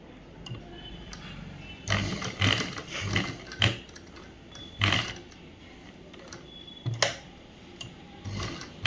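A sewing machine stitches a government school uniform shirt in short, uneven bursts of mechanical clatter and ticking, with quiet pauses in between.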